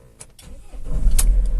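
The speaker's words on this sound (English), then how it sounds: "vehicle starts" A Mercedes Sprinter van engine cranks and fires up nearby, rising from quiet clicks into a steady low rumble after its Ghost 2 immobiliser is disarmed.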